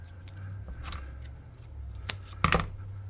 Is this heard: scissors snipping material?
yes